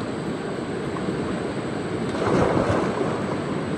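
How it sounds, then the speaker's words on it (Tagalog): Strong river current rushing in a steady broadband roar, with a swell of louder turbulent water midway, no voices. "Mga kabayan, ang lakas na ang agos."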